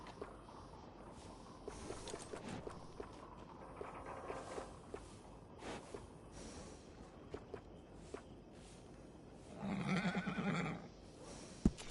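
A horse in Red Dead Redemption 2 gives a loud, wavering neigh near the end, after scattered soft hoof and footstep sounds over quiet ambience.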